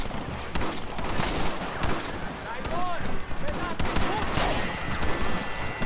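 Gunfire in the Red Dead Redemption video game, with rapid bursts of shots and fusillades, loud and dense throughout, mixed with other game sounds.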